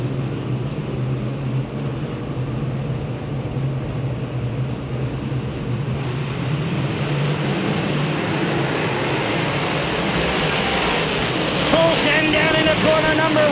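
Modified race cars roaring around an oval speedway, a steady loud engine drone from the pack that builds toward the end, with an announcer's voice over it.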